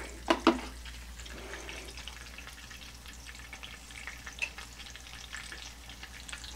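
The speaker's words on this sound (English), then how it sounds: "Well, it's sizzling." Soft, steady sizzle of bacon frying in a pan, with faint crackles and a couple of sharp clinks near the start; quiet and close, no voices.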